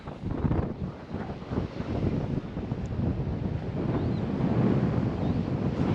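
Strong wind buffets the microphone in continuous rough gusts at İnceburun lighthouse, Sinop, Turkey's northernmost point, with a low rumble like surf underneath; no voices.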